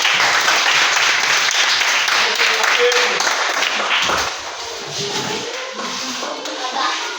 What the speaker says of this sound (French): Donc, applaudissez encore pour eux.